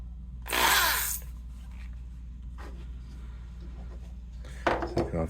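A power drill with a countersink bit briefly bores countersunk screw holes in a game board workpiece, giving one loud, short whining burst, a quieter stretch of workshop hum, and a second short burst near the end.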